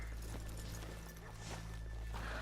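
Horse hooves clip-clopping on a town street in the video game Red Dead Redemption 2, a quiet steady patter of steps under a low ambient hum.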